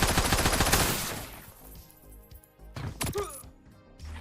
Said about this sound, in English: Then the gunshot sounds are different, like everything's different.